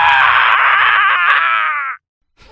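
A man's agonised torture scream rings out in a torture chamber as he is crushed against a wheel of needles, one loud, strained, sustained howl lasting about two seconds, then breaking off abruptly into silence.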